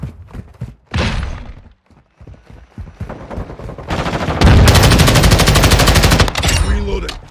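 Rapid machine-gun bursts in Modern Warfare II, loud and close, opening with short volleys and building to a long sustained stream of fire with clattering impacts. A brief voice is heard between bursts.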